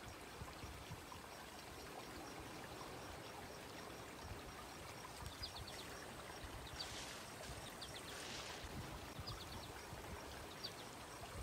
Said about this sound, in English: I can hear the sound of the river in game